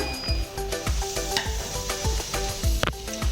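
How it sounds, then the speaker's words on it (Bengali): A dried red chilli crackles in hot tempering oil under a steady, close sizzle, broken by repeated quick scrapes and clinks of a spoon stirring the pan. "একটা শুকনো লঙ্কা ফোড়ন দিলাম"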